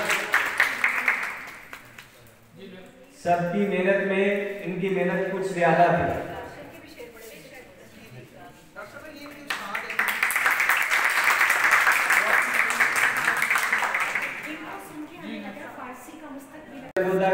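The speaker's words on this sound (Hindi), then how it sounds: "तालियां।" At an academy ceremony in Lahore, an audience breaks into broad, sustained applause that swells in the middle and runs for several seconds, framed by someone speaking into a microphone before and after.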